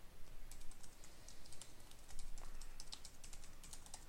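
Keys on a computer keyboard clatter in uneven, rapid taps, recorded up close and continuing without speech.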